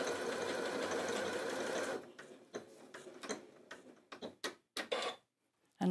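A Janome Atelier 9 sewing machine runs a steady whirring stitch sequence, then slows into a string of separate ticking clicks and mechanical taps before stopping, close and clear.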